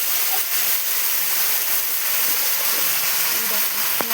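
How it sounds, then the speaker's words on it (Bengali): Fish frying in oil, a steady broadband hiss and sizzle that holds even and close throughout, with a sharp clink near the end. "এই দেখো লাল লাল করে কাকিমা সব মাছগুলো ভাজে নিচ্ছে।"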